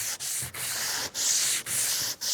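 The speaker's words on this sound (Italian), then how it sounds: "io uso una spugnatina abrasiva media fine per andare a fare i dettagli" Steady rhythmic scrubbing of a fine abrasive sponge rubbed by hand over antique wooden furniture, five even strokes with brief pauses, close and alone.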